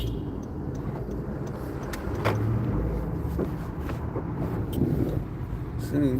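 A car rolls through New York traffic, its engine and road noise a steady low rumble from inside the cabin, with faint clicks and a brief tonal sound over the continuous hum.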